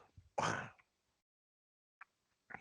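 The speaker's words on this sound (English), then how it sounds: "Hold on, I'm about to cough." One sharp, loud cough close to the microphone, followed by a pause and a couple of faint throat noises.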